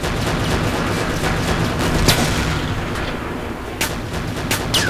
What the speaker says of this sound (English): Oh good, open fire